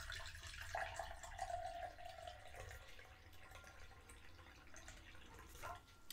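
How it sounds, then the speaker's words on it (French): Water being poured into a measuring container for making organic rose water, a soft steady trickle with gentle gurgling, close and quiet. "on verse notre eau"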